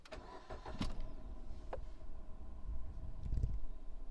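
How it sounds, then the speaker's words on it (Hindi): A Maruti Ignis CNG car's engine cranks and catches, a few short knocks and a whirring start settling into a low, quiet idle heard from inside the car. "तो चलिए गाड़ी को स्टार्ट कर लेते हैं।"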